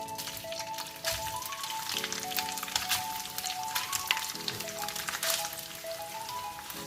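Potatoes sauté in ghee in a pan for potato halwa, a steady sizzling hiss that runs throughout beneath a melodic background music track.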